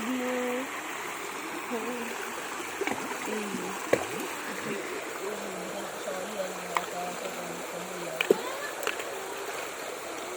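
Stream water rushes steadily where children are bathing, with a continuous wash of flow, occasional splashes and knocks, and children's voices calling and talking over it.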